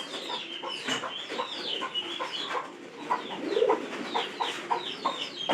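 A chicken clucks among pigeons at a dovecote, short repeated clucks and soft coos overlapping in a busy, close cluster of bird calls.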